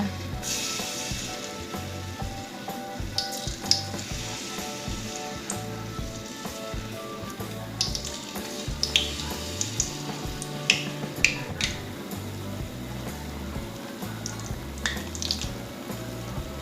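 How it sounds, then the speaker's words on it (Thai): Banana slices in batter deep-frying in hot oil over medium heat until golden, a steady dense sizzle and crackle throughout, with scattered sharp pops and spits standing out above the continuous bubbling. "เสร็จแล้วก็นำมาทอดกันเลยค่ะ ทอดให้สุกเหลืองนะคะ"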